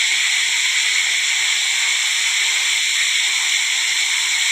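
Spices sizzling in hot oil in a pan, a steady close hiss that stays even throughout with no break.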